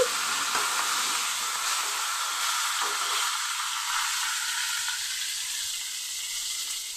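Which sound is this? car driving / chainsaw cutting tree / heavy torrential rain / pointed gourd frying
pointed gourd frying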